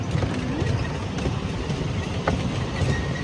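Mini ride-on train at Auckland rolling along its track, a steady close rumble of wheels with light rattling and a brief squeal, faint chatter in the background.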